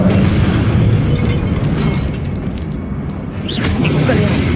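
Fiery blasting-spell explosion from the Hogwarts Legacy game, a loud, broad roaring burst that sustains across the stretch, with a brighter crackling flare toward the end; no voices.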